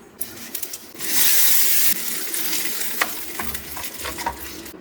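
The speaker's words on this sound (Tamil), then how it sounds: "இப்போ நம்ம இதை வந்து தாளித்து கொட்டிக்கலாம்" Hot tempering is poured into chutney and bursts into a loud, sharp sizzle that lasts about a second, then settles into softer frying crackle with a few stirring clinks nearby.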